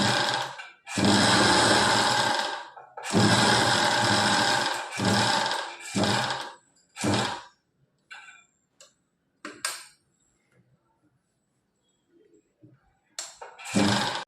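A sewing machine runs in short stitching bursts through blouse fabric, loud near whirring runs of one to two seconds separated by pauses, followed by softer taps and clicks of handling.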